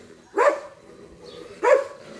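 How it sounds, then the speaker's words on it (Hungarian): A police service dog in a new kennel set up in a yard gives two sharp, loud barks about a second apart, close by, with quiet between them. "most itt az udvaron felállított új kenelbe már ez a szolgálati kutya is található"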